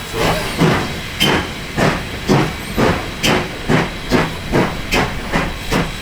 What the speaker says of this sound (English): the locomotive has switched. We're now reversing to go reconnect to the carriages